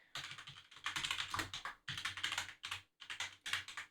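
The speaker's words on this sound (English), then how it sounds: "I will be typing shit out because it's actually the easiest way that I could figure out to enter information into this sheet" Typing on a computer keyboard, fast rattling bursts of keystrokes broken by brief pauses, close and clear with nothing else over it.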